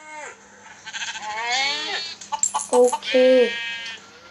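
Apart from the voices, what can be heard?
sheep bleating in Minecraft video game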